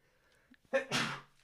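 A single close, sharp sneeze preceded by a quick intake of breath, in an otherwise quiet room.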